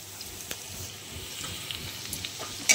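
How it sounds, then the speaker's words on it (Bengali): Onions fry in oil to make beresta, crisp fried onions, giving a faint, steady sizzle with scattered small crackles and a brief knock at the end. "বেরেস্তাটা ভেজে নিচ্ছি।"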